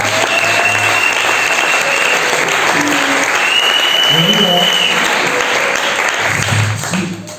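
A church congregation applauds loudly and continuously, with voices mixed into the clapping, before it fades out at the end.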